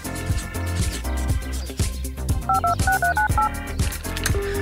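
A toy telephone made from pop tubes and a pool noodle, heard as a quick run of electronic DTMF dialing tones, several short beeps in sequence, loud and close over busy background music.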